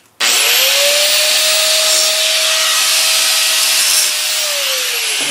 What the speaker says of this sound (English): I'm just going to get the grinder and just go